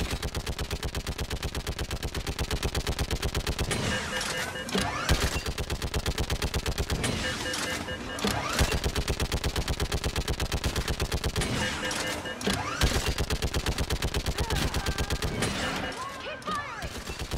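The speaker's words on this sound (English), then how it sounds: "Keep firing!" Rapid automatic gunfire from a Mass Effect firefight, dense continuous bursts of shots punctuated by heavier impacts every few seconds, loud and close with faint voices barely present underneath.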